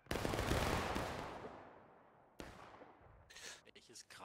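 Musket volley in the Civil War game War of Rights: a loud massed crack with a long rolling decay, then a second sharp report and scattered distant shots.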